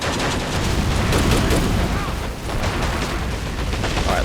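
Grenade explosions and battlefield fire in the World War II strategy game Men of War: Assault Squad 2, Le Shima beach 1945, heard as dense, continuous booming and crackling gunfire with no pauses.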